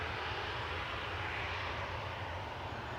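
EasyJet airliner from Amsterdam touching down at Manchester Airport, a loud, continuous close jet roar filling the whole stretch, with no voices.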